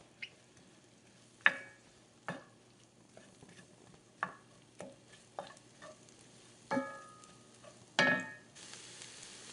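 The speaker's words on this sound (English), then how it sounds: "we're cooking the onion for a little bit until the spice is fragrant" Onion and spices fry in a pan for a vegetable korma, stirred in a string of about ten distinct scraping strokes over a steady low sizzle, close and fairly loud, with no talking.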